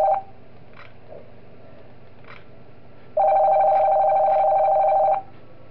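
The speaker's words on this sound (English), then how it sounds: "Phone call? Alright, good, we get a phone call." A telephone rings inside the video game Five Nights at Pikachu's: steady electronic ring tones, a short burst, then one long sustained ring over a low background hum, loud and close.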